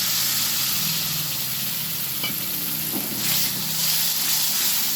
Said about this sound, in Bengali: আমি এবারে ভালোভাবে মশলাটা কষিয়ে নেব